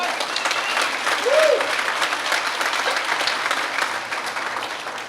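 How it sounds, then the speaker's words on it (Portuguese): Steady audience applause during a talk, a dense continuous wash of clapping with a brief whoop or cheer rising near the start, fairly loud and tapering slightly at the end. "pode aplaudir"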